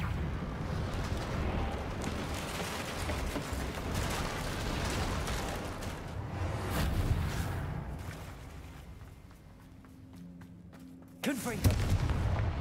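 Confringo spell blasts in Hogwarts Legacy: a continuous rumbling, crackling roar of explosions, with a sharp new blast near the end, heard under a voice speaking.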